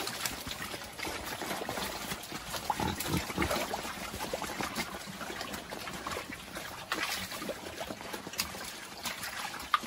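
Pigs eating mango snacks on a farm: a continuous low wet munching and slurping with occasional soft grunts, faint and close, with no voices.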